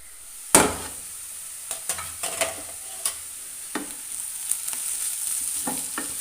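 Vegetables cooking in a pan for bread snacks such as bread pakoda and veg pockets, with a soft steady sizzle and a few sharp stirring clinks and scrapes, one louder knock near the start, close by with no talk.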